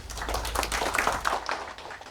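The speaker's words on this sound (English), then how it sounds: "I think a big round of applause to Leela" An audience at a hotel event claps in a short, scattered round of applause, the individual claps close and distinct before fading off.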